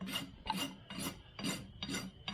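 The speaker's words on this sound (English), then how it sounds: "So I'm going to use the rough side of my file." Rough side of a file rasping a horse's hoof to remove flare, five steady back-and-forth scraping strokes in even rhythm, close and moderately loud with no talking.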